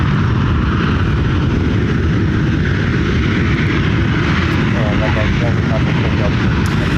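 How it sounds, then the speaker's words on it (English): A 31-year-old aircraft on the airside at Ontario airport, California, a loud, steady engine roar and rumble filling the whole stretch, continuous and close. "This aircraft 31 years of age."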